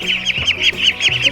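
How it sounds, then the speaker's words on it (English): Young ducks in a chicken brooder call with rapid, repeated high peeps and cheeps, close and steady, with several birds overlapping and no talking. "let's go check on the ducks"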